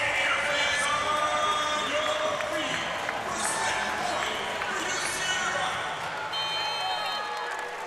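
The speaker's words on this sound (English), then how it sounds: "listen to this traveling crowd" Crowd of traveling fans at an NCAA men's volleyball Final Four match between Ball State and UC Irvine roars and cheers steadily through the whole stretch, a loud sustained arena din with some voices talking over it.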